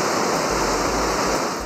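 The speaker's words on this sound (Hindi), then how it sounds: "पहाड़ों से बहते शफाफ झरने और आबशार" A mountain waterfall in the Swat valley roars as a dense, steady rush of white noise, loud and unbroken throughout with no other sounds.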